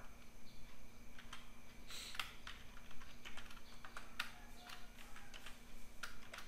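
Quiet clicks of a computer keyboard in a room, scattered keystrokes with a few sharper presses standing out, faint and close.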